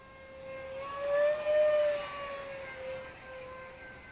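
A Freewing F-86 Sabre 64mm EDF radio-controlled jet passes overhead with a steady high-pitched ducted-fan whine that swells and fades in pitch as it flies by at a distance.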